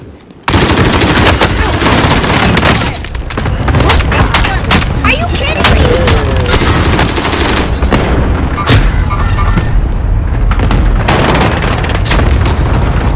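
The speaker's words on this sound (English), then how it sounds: "Ally cluster strike inbound." Dense, loud barrage of cluster-strike explosions and gunfire in a multiplayer shooter game, booming continuously for over twelve seconds with rapid bursts, while a player's voice cuts in briefly.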